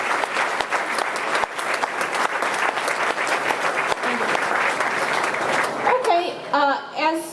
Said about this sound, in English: let's give them a round of applause and thanks for their support